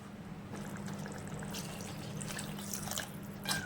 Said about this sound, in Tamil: அளவுக்கு தண்ணி ஊற்றிக்கலாம்.